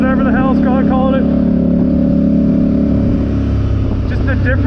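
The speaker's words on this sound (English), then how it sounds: "Get to hear what this exhaust sounds like with that silencer and the spark arrestor" A Can-Am 850 HighLifter ATV fitted with an exhaust silencer and spark arrestor idles with a loud, steady, low engine drone close by, while people talk over it.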